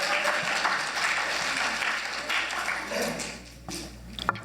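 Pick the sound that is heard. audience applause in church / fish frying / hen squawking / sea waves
audience applause in church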